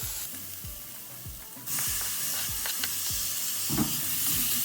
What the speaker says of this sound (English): now I'm going to throw the tomatoes in